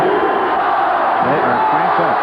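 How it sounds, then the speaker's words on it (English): Arena crowd roaring at a 1989 Rutgers versus Penn State college basketball game, a dense continuous wash of cheering and yelling that stays loud throughout, with scattered individual shouts rising out of the mass. "the crowd is absolutely suffocating."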